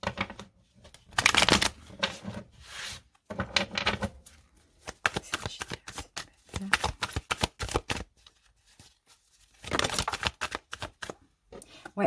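Tarot cards being shuffled before a draw, with rapid papery riffles and flicks coming in bursts separated by brief pauses, close and crisp throughout.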